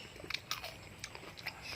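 Crunchy food bitten and chewed during a Thai meal of rice with chili paste, fried egg with sesbania flowers and fresh and boiled vegetables, several sharp close crunches spread over a couple of seconds.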